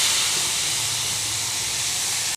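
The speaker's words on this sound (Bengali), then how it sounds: "এবার এভাবে ভালো করে ভেজে নেব" Vegetables fry in a pan for egg chow mein with a constant loud hissing sizzle that runs unbroken and then cuts off abruptly at the end.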